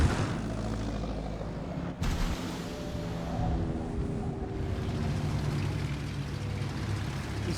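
Aircraft engines drone steadily in a video game, a continuous loud propeller roar with slight shifts in pitch and no voices.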